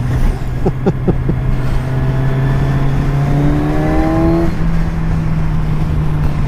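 A 2017 Kawasaki Z1000 engine drones steadily while riding, its pitch climbing through the gears under loud, continuous wind rush.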